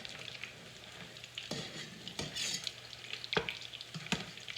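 Salmon croquettes, four small patties, fry in a skillet with a steady sizzle, broken by several sharp clinks and scrapes as they are turned, close and moderately loud with no talking.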